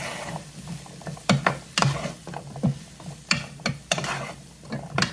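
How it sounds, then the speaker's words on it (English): Garlic being stirred into a pot of carrot ginger soup, with a series of soft scraping and clinking strokes of a utensil against the pot and a faint sizzle underneath, close and fairly quiet. "let's go ahead and stir in that garlic"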